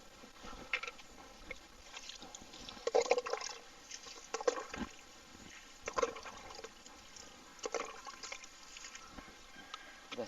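Water trickles and splashes in soft, irregular bursts as banana seedlings are watered lightly from close by, faint dribbles and patters coming and going against quiet outdoor background with no talking.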